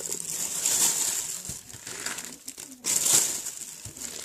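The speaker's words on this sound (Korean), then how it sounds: "요거는 여기 비닐봉투에다가 잘 담아주세요." A plastic bag is handled up close, giving continuous crinkling and crushing with two louder bursts, while small cut-apart miniature items from a Daiso haul are packed into it.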